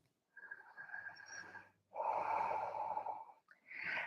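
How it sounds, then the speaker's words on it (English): Slow, steady breaths during a yoga pose in a vinyasa flow class, each inhale and exhale audible and close, with soft airy hiss and quiet pauses between them. "2 more steady breaths."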